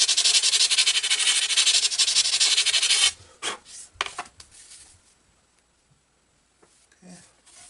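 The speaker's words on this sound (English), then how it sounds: "a little more sanding." Wood on a Great Planes PT-20 model airplane float build is sanded by hand in a loud, rapid scraping burst lasting about three seconds. Scattered handling taps and short light rubs follow, then near quiet.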